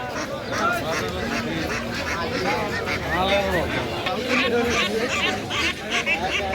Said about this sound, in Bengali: এই যে বড় খাঁচাই করে হাঁস নিয়ে আসছে উনি